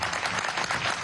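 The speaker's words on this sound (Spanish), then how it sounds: "Vamos a darle un aplauso a esta niña." A crowd applauds a girl singer at a celebration event in Venezuela, a short burst of dense, continuous clapping.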